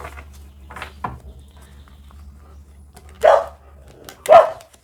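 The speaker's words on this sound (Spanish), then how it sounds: "están por allá súper alborotados los perritos porque hay dos perritas que llegaron a visitarnos" Several excited dogs barking in a home, with a few softer barks early on, then two loud, sharp barks close by over a low steady background hum.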